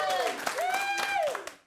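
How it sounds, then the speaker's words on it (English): A studio audience at the Gutfeld talk show claps and applauds in a dense, continuous patter, with voices and cheering rising over it before it fades at the end. "Clapping."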